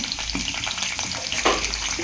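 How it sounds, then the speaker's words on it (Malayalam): Paddy-field fish frying in hot oil with curry leaves gives a steady close sizzle and crackle, with a brief louder burst of spitting midway. "അപ്പോൾ തൊട്ട് നമ്മളെ പൊരിക്കുകളായിട്ട് ഓരോന്നായിട്ട് ഇട്ടുകൊണ്ടിരിക്കുകയാണ്"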